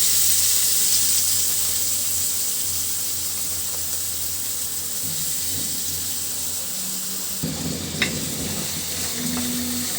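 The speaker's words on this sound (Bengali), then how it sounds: "দিয়ে দিচ্ছি তেলের ভিতরে পেঁয়াজ কুচি" Chopped onion hits hot oil in a pan for an eggplant and hilsa fish curry, producing a steady hissing sizzle with a low background hum and a few faint clatters near the end.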